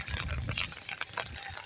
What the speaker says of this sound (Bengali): যে জল বইছে এখানে।